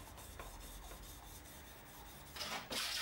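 Carpenter's plane blade rubbed back and forth on a coarse sharpening stone, a quiet, rhythmic close scraping that grows louder and harsher near the end, with no talking.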